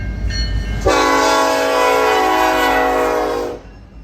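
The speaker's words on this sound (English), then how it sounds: "508 tonight being led by a pair of SD70 M-2s." A Grand Trunk Western freight train, led by a pair of EMD SD70M-2 locomotives, blasts a loud, sustained air horn at close range over engine rumble. The horn stops abruptly after about three seconds.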